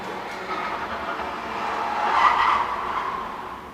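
Cars street racing outside, heard as a distant engine roar and tire noise that swells and peaks past the midpoint before easing off, muffled as if heard from indoors.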